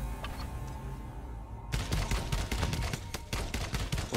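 Pixel Privateers gunfire, including a shotgun, opens with a sudden burst after a quiet, humming stretch. Rapid, loud shots crackle on in a dense, uneven volley to the end.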